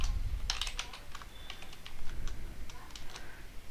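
Quick, uneven clatter of keys typed on a computer keyboard while entering Python code for a number guessing game, close and moderately loud with no talking.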